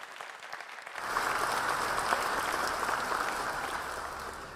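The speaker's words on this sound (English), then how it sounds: "So I think we should give Sunderberg a round of applause" Conference audience applause bursting in after a quiet moment, a dense, even wash of many hands clapping that holds steady for several seconds, fairly close and loud.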